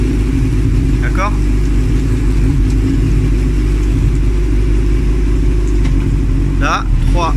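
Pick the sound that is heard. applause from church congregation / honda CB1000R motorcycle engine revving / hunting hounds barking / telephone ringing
honda CB1000R motorcycle engine revving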